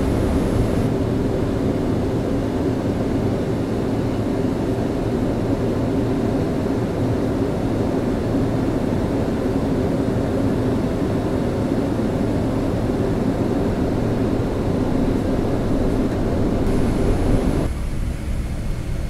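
A steady, loud, unbroken roar of cabin noise fills an Ethiopian Airlines airliner on a late-night flight as it descends toward Singapore Changi, a constant low engine-and-air drone with no other sounds.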